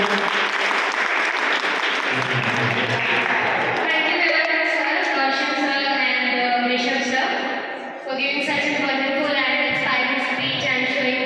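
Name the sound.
audience applause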